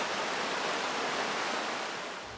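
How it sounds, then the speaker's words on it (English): The Credit River flows over shallow riffles in a steady, close, broadband rush of water that fades slightly at the end. "The sound of the water over the riffles"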